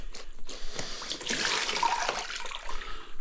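Wet sponge wiping grout off large porcelain floor tiles, a soft, close swishing and sloshing of water with a few short wipes and one longer smear, quiet and alone without talk.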